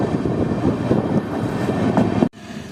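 The Amrit Bharat Express rumbles steadily through Ahmedpur Junction on the New Jalpaiguri–Nagercoil run, a loud, continuous rolling roar that cuts sharply and drops to a quieter hum near the end.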